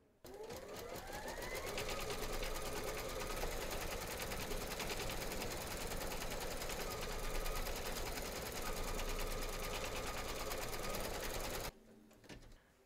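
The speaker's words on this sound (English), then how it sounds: "Load your matching bobbin and thread colour for the quilting into your machine and then stitch round number 4" An embroidery machine stitches the quilting round of an in-the-hoop teddy and unicorn bag, a close, steady, rapid whirring hum that holds for about eleven seconds and then stops.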